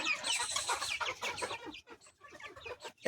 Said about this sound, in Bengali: ওইটা বড় মুরগি সোনা ধরেন ওটাকে ধরেন